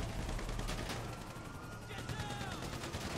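Gunfire during a drive-by in GTA 5 Online: several quick rattling shots fire in bursts, fairly faint and distant, under a steady background of game noise.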